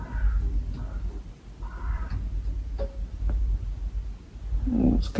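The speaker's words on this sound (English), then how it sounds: "Why does it sound like there's a crow stuck in the chimney?" A crow caws inside a chimney, a few separate calls scattered over a low indoor rumble, with faint movement sounds between them.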